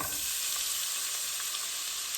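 Chopped onions and garlic sauté in hot oil, giving a steady close sizzle and hiss with no talking.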